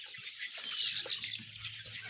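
Arab chickens clucking softly in a group at a farm harvest, with faint scattered clucks and light rustling, fairly distant and quiet, no talk.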